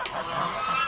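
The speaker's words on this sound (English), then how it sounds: "look at the goose coming after me" A goose on a nesting ground gives a short, harsh honk up close, with breathy noise around it.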